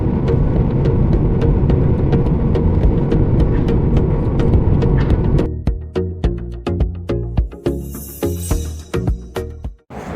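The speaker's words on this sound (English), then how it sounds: "Okay, so I'm out here in traffic." Road traffic from inside a moving car near a Palm Springs resort, a steady broadband rumble of engine and tire noise that gives way to quieter, choppier sound with sharp clicks and bumps toward the end.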